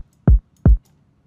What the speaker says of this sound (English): that's more just a thuddy, subby type of kick